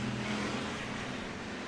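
Hobby stock race cars roar around the oval at Raceway Park, a continuous, moderately distant engine din from the pack, with no commentary over it.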